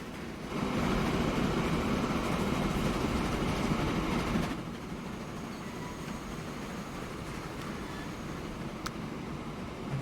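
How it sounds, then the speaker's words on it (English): An iron transfer train runs in the Transport Fever 2 game on a UK rail route, a steady rumbling roll with clattering wheel noise that drops to a quieter, even hum partway through, with no talking. "which is the iron transfer train."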